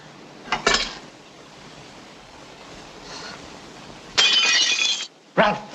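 Window glass breaks in an old film-noir room: a short crash near the start, a quiet stretch, then a loud sustained shatter of falling shards and a final sharp crash, close and clear.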